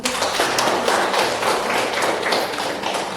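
Dense, steady applause from an audience at a health-teaching session, a continuous wash of many hands clapping at close range for about three seconds with no pauses.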